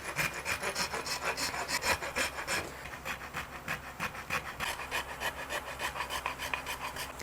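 A rasp works a wooden guitar neck during a custom build, rounding and shaping it in steady back-and-forth strokes, rhythmic and close, with a brief pause midway and no talking.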